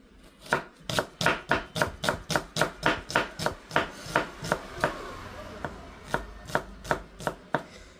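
Knife cutting an onion on a board, a rapid even series of crisp chopping taps, about twenty strokes close up, slowing slightly toward the end with no talk.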